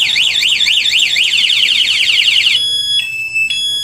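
A motorcycle security alarm on a Honda GTR 150 wails loudly in rapid rising-and-falling sweeps, then switches to steady beeping tones.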